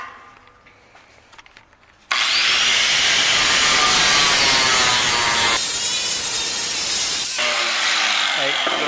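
An angle grinder bites into the metal of a safe bought at a yard sale, jumping from quiet handling noises to a loud, continuous abrasive screech that holds steady and shifts pitch slightly as it cuts.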